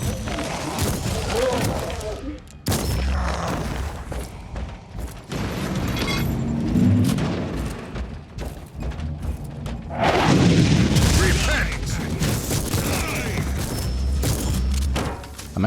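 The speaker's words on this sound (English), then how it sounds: "Do you hear how the guns sound? They're really impactful" Heavy, booming gunfire and thudding blasts from guns in the Warhammer 40k Inquisitor Martyr game, repeated bursts of loud impacts layered over game music and mechanical clatter.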